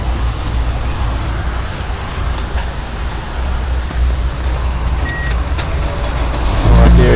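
A 2013 Toyota Hiace van engine runs at a steady idle, a low continuous rumble with mechanical clicks, swelling louder toward the end as revs lift.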